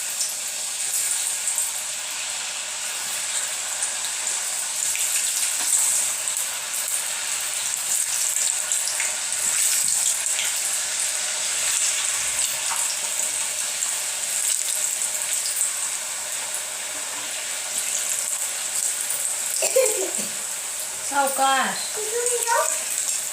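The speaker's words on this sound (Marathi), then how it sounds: "तर तेल गरम आहे, त्यातच हे काप" Potato slices sizzle steadily in hot oil, a continuous close frying hiss throughout, with a voice speaking briefly near the end.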